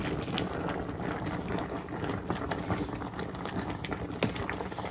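Apples cooking in a pot on a stovetop burner, releasing their juice, with a soft continuous bubbling and fizzing simmer and scattered small pops, fairly quiet and without talk.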